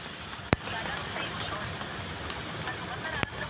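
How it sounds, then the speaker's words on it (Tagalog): Steady rain patters and hisses on a surface, close and continuous, falling while the sun shines, with two sharp clicks and no talking. "May araw na ulan."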